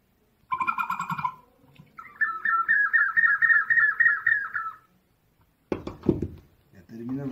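An Inca whistle jar imitating a parrot gives a warbling, trilled whistle with a rough buzzy edge for a few seconds between bursts of nearby knocking and chatter.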